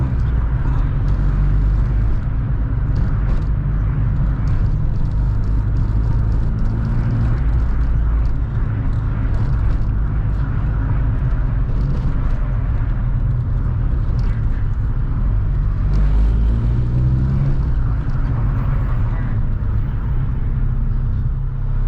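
A VW MK2 16V engine fitted with CBR900RR carburetors idles continuously, a dense, low, loud rumble heard up close with a steady, even drone and no talking.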